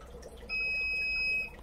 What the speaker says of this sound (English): So you could beep, make it beeping noise if you want.